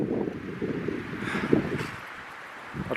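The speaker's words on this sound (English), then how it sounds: "It's windy of course." Wind gusts buffet the microphone outdoors at a wood-cutting site with a dead elm and a Massey tractor, giving a rough, rustling rumble that rises and falls, with a brief thump midway.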